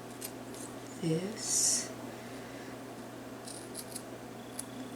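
Scissors snipping out a paper letter E for a Dollar Tree fall banner: a brief, quiet crisp cut or two near the start, with a short spoken word and faint room noise.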